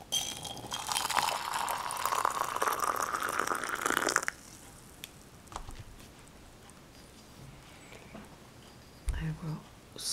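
Water poured over TieGuanYin tea leaves to rinse them, a steady trickling stream rising in pitch as the vessel fills for about four seconds, then stopping, followed by faint clinks of teaware.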